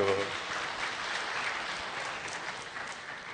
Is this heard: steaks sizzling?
no